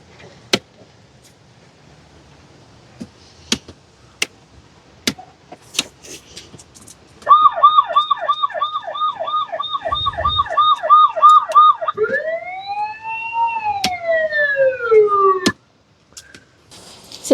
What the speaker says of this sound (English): This button turns on the siren.